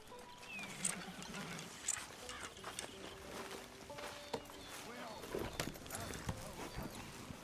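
Horse hooves trotting in the video game Red Dead Redemption 2, a steady run of soft clip-clop beats under a background bed of game ambience, with voices talking over them.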